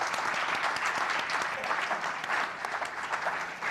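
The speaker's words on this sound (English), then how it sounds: "Can we have a round of applause for Shobha," Steady audience applause for a speaker at a live event, a dense even wash of many hands clapping throughout at moderate distance with no break.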